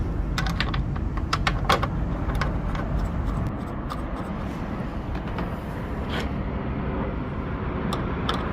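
Phillips screws being driven into the tail light assembly of a 2019 Ram ProMaster City, heard as a run of sharp close clicks and ticks over a steady background hum.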